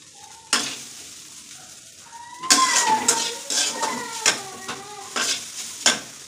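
Poha fries in a pan on a home stove for breakfast, sizzling close by while a spoon stirs and scrapes against the metal in irregular clanks, with no voices.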